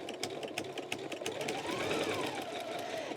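Close by, a sewing machine stitches Cuddle plush fabric for an infinity scarf, its rapid rhythmic needle clatter running steadily and fairly loud.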